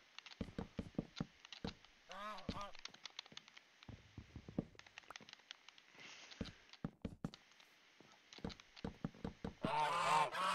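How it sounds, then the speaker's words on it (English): A goose in a modded Minecraft playthrough gives a burst of loud, nasal honks in quick succession partway through, among scattered sharp game clicks and thumps, with a dense noisy burst at the end. "the freaking goose!"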